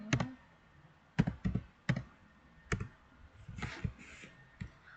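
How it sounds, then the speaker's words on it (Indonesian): Rapid clicking of keys on a computer keyboard as the git status command is typed, quick irregular bursts of close, crisp key taps with short pauses between them. "Langsung saja kita ketik perintahnya."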